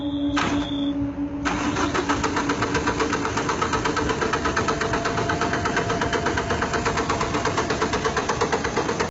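Bus engine cranking briefly and then catching, followed by a steady, loud idle with a rough, rhythmic knock that runs to the end, with no voices.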